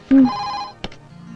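A telephone rings in an office, one short electronic ring burst followed by a sharp click and a faint tonal hum, close and brief.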